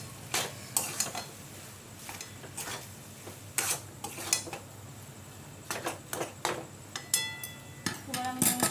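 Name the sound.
mixing potato with ginger, garlic, salt and turmeric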